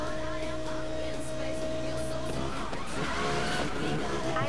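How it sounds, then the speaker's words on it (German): Car drifting with a brief tire squeal in the racing game Need for Speed: Most Wanted, a steady loud engine drone with whining harmonics that break into a rough, noisy skid midway and carry on to the end. "Kleiner Drift."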